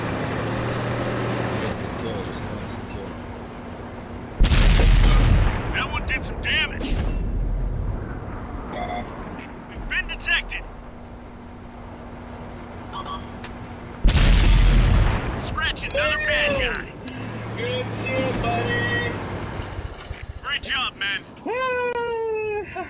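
Two heavy booming cannon shots from an M103 tank in a video game, spaced about ten seconds apart over engine rumble and game effects, with someone talking throughout.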